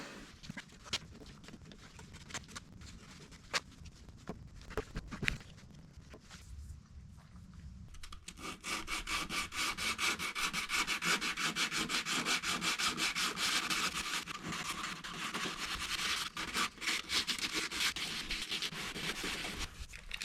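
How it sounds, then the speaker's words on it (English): Body filler on a Dodge Ram rocker panel and cab corner is sanded by hand with 100-grit sandpaper: a steady, close rasping scrub that grows louder and continuous after a few scattered scrapes. "So it does sand very easily, and they say to use 80 grit to shape it, but I don't have 80, so I'm using 100."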